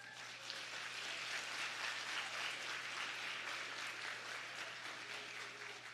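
Steady applause from a crowd at a benefit gala and online auction, a continuous wash of clapping held at an even level throughout with no voices on top.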